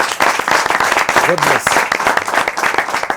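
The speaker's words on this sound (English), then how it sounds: "That deserves an applause." Audience applause from a crowd at an event with a former British army soldier, dense steady clapping throughout with a voice speaking briefly over it.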